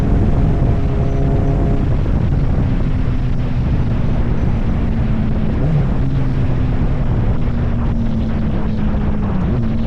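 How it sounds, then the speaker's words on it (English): Wind rushes steadily across the microphone on a Hayabusa motorcycle ride, with a constant engine drone and shifting tones beneath it, continuous and close throughout, with no talk. "There's a little breeze going on out here."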